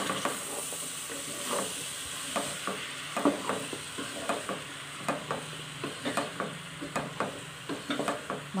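Bottle gourd (sorakaya) pieces fry in a pan with a steady soft sizzle, broken by frequent clacking taps and scrapes of stirring throughout.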